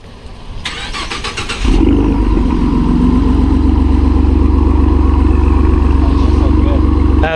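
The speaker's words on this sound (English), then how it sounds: "First start up with the new exhaust." A 2015 Ford F150 Lariat 3.5 engine with a new exhaust cranks with a rapid starter whir, then catches and settles into a loud, deep, steady rumble that keeps running, very close.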